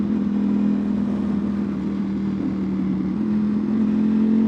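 Ducati Panigale V4 motorcycle engine, a modified 2025 model, running steadily with a sustained droning growl and slight shifts in pitch as the revs build, heard close and continuous with no talk.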